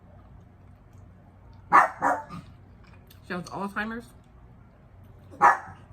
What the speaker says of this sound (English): That's why my dog is barking now.